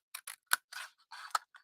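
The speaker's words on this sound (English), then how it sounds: "We're going to grab our scissors and we're going to cut it" Scissors snip through leather for a small purse in a quiet room, a series of sharp, crisp cuts in irregular bursts, close and distinct.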